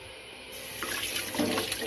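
Water runs and splashes into a cooking pot to boil rice on a home stove, a steady close pouring stream that begins partway through and grows fuller; no talking.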